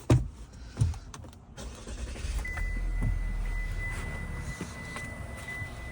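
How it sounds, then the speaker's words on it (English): A 2024 Chevrolet Malibu rental car runs with a steady low idle hum, a few opening thumps and clunks, and a thin high whine riding over the engine noise throughout, with no talking. "We'll go ahead and take a look at the engine. We'll let it run, I guess."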